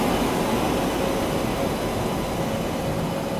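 Steady, loud rumble and rushing roar of a train hauled by a WFP7 locomotive on the main line from Chennai, filling the whole stretch with no pause.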